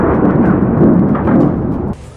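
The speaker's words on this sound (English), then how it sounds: "A thunderous clap of lightning suddenly strikes a tree trunk" Thunder from a lightning strike shattering a tree trunk, a loud sustained rumbling blast that rolls for about two seconds before dropping away abruptly.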